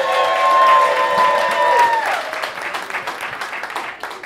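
A live audience applauds and cheers for Mara Wiles during a rap battle vote, a dense wash of clapping with a whistle-like tone early on, thinning into scattered claps toward the end.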